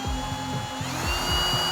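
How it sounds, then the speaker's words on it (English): Power drill boring a hole through a steering wheel anti-theft club device, its motor whining steadily and loudly with a repeated pulsing grind as the bit works through, close by and with no speech. "Nothing yet, so I guess I'm gonna drill another hole."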